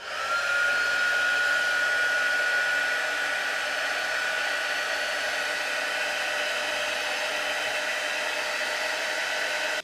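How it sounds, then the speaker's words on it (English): A steady, loud blowing whine of hot air from a handheld heat gun drying watercolour paint runs continuously, with a thin high tone drifting slightly near the start. "it's essentially a directed heat gun, and you can use this or a hair dryer"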